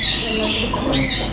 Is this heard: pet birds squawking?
yes